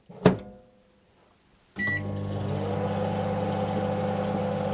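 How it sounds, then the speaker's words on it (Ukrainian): A microwave oven starts with a click and then hums steadily, a continuous mechanical drone close by, with a brief clatter just before it begins. "Підігріваємо 30 секунд в мікрохвильовці."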